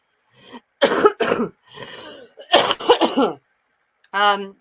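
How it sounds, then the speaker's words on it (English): A person coughs and clears their throat several times in quick bursts, close by, with short gaps between them. "I've got a cold. That's why I'm coughing so horribly."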